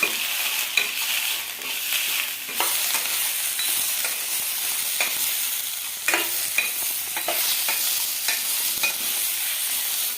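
Tomatoes sizzle steadily in a hot pan for several seconds, broken by sharp clicks and scrapes of a spoon stirring, with no voices.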